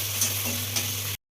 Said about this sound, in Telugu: తర్వాత మిరపకాయలు వేసుకోవాలి. కారాన్ని బట్టి వేసుకోండి.